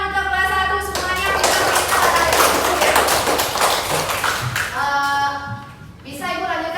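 Children clap together in a primary classroom, a burst of brisk, close hand-clapping in the middle, with voices talking before and after it.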